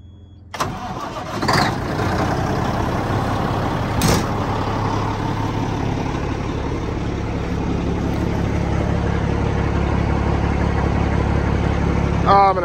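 Old Kenworth truck engine cranking and firing up, then settling into a loud, steady diesel idle that runs on close to the microphone.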